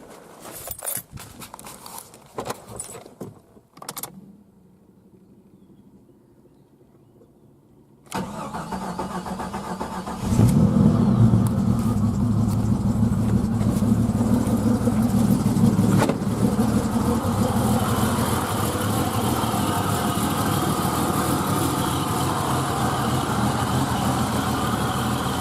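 A 1990 Jeep Cherokee Laredo is heard with rattling clicks, a quiet pause, then the engine cranking and catching, settling into a loud, steady idle that runs on to the end.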